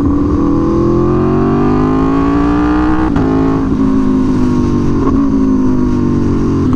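An Aprilia Tuono V4 motorcycle fitted with an SC-Project CR-T exhaust revving high and loud, a sustained smooth howl that climbs and dips slightly through the rev range with no voices.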